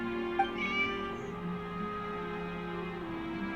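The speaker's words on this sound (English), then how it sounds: "Sounds like my cat." A cat meows in a video game, one short high meow near the start over steady, soft background music.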